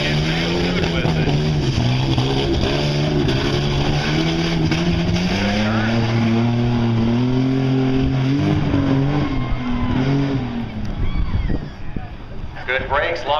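A Ford Ranger truck racing down a drag track, its engine droning loudly and climbing in pitch through the gears for several seconds before easing off, with an announcer talking over it.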